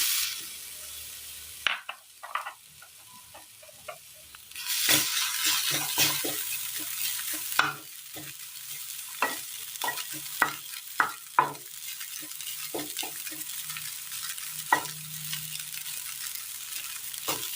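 Grated coconut dry-roasting in a pan: repeated scraping and stirring with a soft sizzling hiss underneath, irregular clinks and scrapes close by, no voices.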